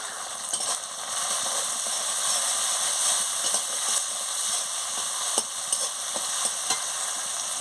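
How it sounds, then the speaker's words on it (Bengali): Turmeric powder being stirred into frying food in a pan for a cabbage and fish-head dish, with a steady close sizzle and intermittent scraping stirs throughout. "ভালো করে ভেজে নিচ্ছি। হলুদের গুঁড়ো দিয়ে দিচ্ছি।"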